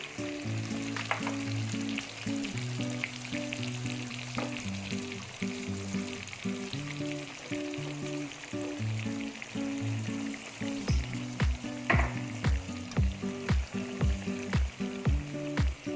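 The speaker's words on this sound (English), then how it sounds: "And now I'm going to just saute this until the raw smell of the onion paste vanishes." Onion puree sautéing in a pan, a continuous close sizzle and bubbling with occasional stirring scrapes, then a run of quick, regular taps near the end, with no voices.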